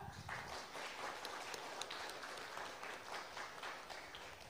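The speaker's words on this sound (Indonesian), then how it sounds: "Mana tepuk tangannya?" A crowd at a mayoral candidate debate in Magelang, Indonesia, applauds continuously, dense clapping with scattered sharper claps, steady throughout.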